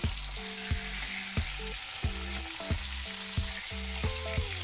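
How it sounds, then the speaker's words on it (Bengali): Cauliflower florets frying in hot oil with salt and turmeric sizzle steadily up close, broken by a regular run of sharp pops and crackles, with no voices. "তেল গরম করে ফুলকপি ভাজতে দেবো।"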